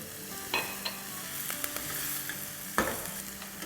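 Poha with sugar and black raisins being stirred in a pan, a steady soft scraping and sizzle with a few sharper clicks of the spoon against the metal, close and fairly quiet.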